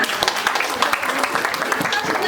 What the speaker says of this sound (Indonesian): Nah, adalah aplaus untuk kita semua.